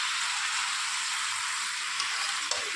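Green chili, ginger and poppy seed paste frying in a pan, a steady close hiss and sizzle with a couple of faint stirring clicks near the end.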